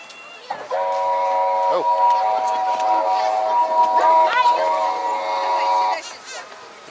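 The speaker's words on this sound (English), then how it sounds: "It was the train behind me." A train at Kyiv Zoo sounds a long, steady whistle for several seconds, with faint voices and a few other brief noises around it.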